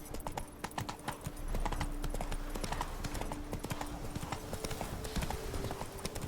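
Horse galloping in The Witcher 3: Blood and Wine, a steady rapid clip-clop of hooves over ground, close and continuous, with a brief whinny-like shout and game ambience around it.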